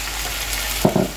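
Chopped tomatoes, four of them, dropped into hot sizzling masala for a Kerala-style chicken tikka biryani, giving a steady low frying hiss that swells into two short bursts of louder sizzle near the end.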